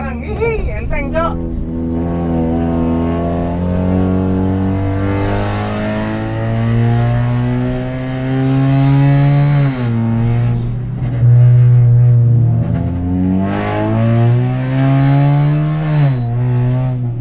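A Honda Jazz GK5 fitted with an open air filter accelerates through several rising engine sweeps and gear changes, a steady close drone under ongoing conversation inside the car.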